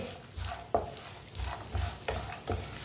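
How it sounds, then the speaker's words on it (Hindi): Fennel seeds roast in a pan on the stove while being stirred, giving a quiet, soft sizzle broken by a few sharp scraping strokes of the spoon. "सौंगी को भी 1 मिनट के लिए पका लेंगे।"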